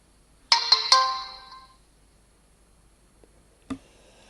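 Three quick bright chimes from a mobile phone ringtone ring out close and clear, then fade, followed by a single soft click later.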